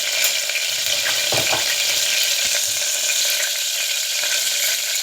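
Mustard and cumin seeds sizzle and crackle steadily in hot oil, a loud, dense frying hiss that runs the whole time with a few brief pops and stirs.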